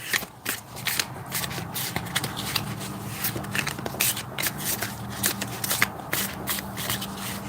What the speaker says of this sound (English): Why am I shuffling cards?